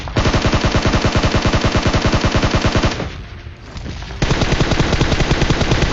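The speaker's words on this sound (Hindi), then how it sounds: "मेरे राइट साइड से कुछ फायरिंग की आवाज़ आती है" Rapid automatic gunfire from PUBG Mobile rattles loud and close in steady bursts, briefly dropping to a muffled lull before the firing resumes at full strength.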